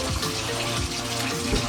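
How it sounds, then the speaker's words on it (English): Water runs steadily from a bathroom sink tap into the basin, a constant close hiss and splash with no pauses and no talking. "I'm letting the water heat up. It takes forever for my sink to heat up."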